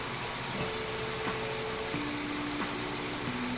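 A Hyundai Getz engine idles during a coolant change, a steady, close mechanical hum with a faint tonal whine that steps slightly in pitch, running continuously with no talk.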